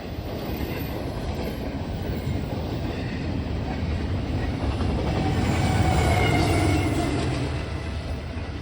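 A Norfolk Southern freight train carrying a Central New Jersey heritage locomotive rolls past on the NS Cleveland Line, a loud continuous rumble and rattle of wagons that swells toward the middle and stays steady throughout.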